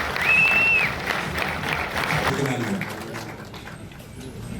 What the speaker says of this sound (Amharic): በክብር ጭብጨባ ሞራሉ ፉጨቱ ይቀጥል